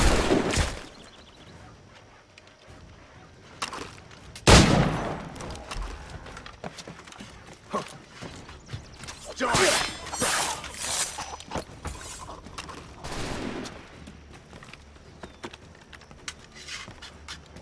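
Musket volley gunfire in Assassin's Creed 3: sharp, loud shots break out at uneven intervals, one heavy blast standing out, with scattered cracks and a busy rumble of commotion between them.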